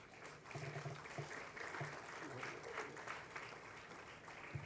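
Steady applause fills a literary festival's opening session hall in Hyderabad as guests are welcomed, an even wash of many hands clapping, somewhat distant, with a voice faintly over it.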